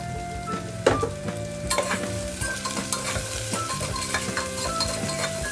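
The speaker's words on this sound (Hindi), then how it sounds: "तो पहले हम ऑनियन को थोड़ा सा लाल करके ले लेते हैं, ब्राउन कलर का भून के ले लेते हैं।" Onion and whole garlic cloves being browned in a pan for achari baingan, with steady sizzling and frequent spoon stirring and scraping against the pan, close and clear, with no talking.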